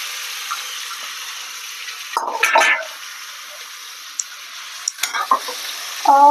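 Chicken pieces hit a hot oiled pan for chicken bagara and sizzle, with a loud burst of frying around the drop, a second crackling flare later, and a faint steady hiss in between.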